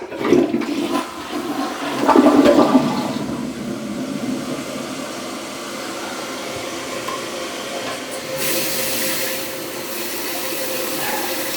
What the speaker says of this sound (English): Full flush.